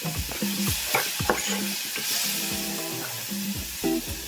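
Tomatoes and green chili tossed into a hot pan for a kohlrabi dish, close sizzling and frying with spoon scrapes and stirring clatter, faint repeated tonal beeps in the background, no speech.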